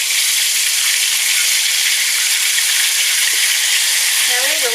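Country chicken frying in hot oil in a pan on the stove, a steady, loud hiss and crackle that holds constant throughout, with a brief voice near the end.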